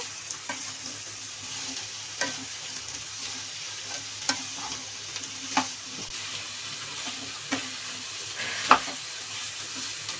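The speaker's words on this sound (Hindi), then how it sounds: "इन्हें मैं थोड़ा सा फ्राई होने दूंगी गोभी और आलू को" Potato and cauliflower pieces fry gently in a pan, a soft continuous sizzle with scattered clinks and scrapes from stirring, quiet and close.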